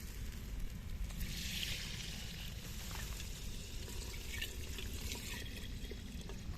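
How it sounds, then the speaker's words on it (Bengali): Water poured into a clay pot of soybean and potato curry while it cooks, a steady trickling splash running continuously for several seconds, close and moderately quiet. "এবার আমরা একটু জল দিয়ে দেবো।"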